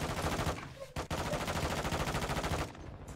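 A Fennec submachine gun in MW2 fires a long, steady automatic burst with one brief break just before the one-second mark, then keeps going at a fast, even rate before cutting off near the end.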